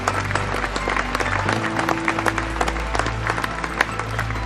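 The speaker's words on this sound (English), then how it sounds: "Let us give them a big round of applause." A round of applause welcoming dignitaries at a district conference opening: loud, steady clapping from an audience, continuous throughout with a faint hum underneath.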